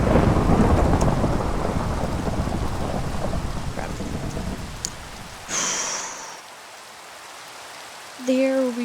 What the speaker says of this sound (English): this is the 3rd time it's rained so far